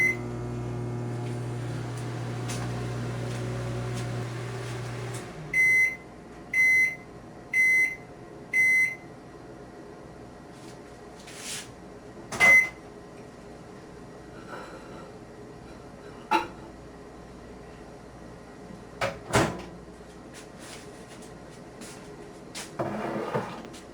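Microwave oven heating soy nuts in a mug at half power, with a steady hum that stops, four beeps, then a door opening and scattered clunks and knocks.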